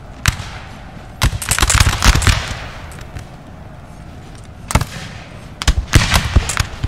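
Infantry musket volleys in a Napoleon Total War battle, sharp crackling bursts of many shots fired together in two clusters, with scattered single reports between and a low rumbling battlefield bed.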